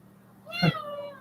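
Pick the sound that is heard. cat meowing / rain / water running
cat meowing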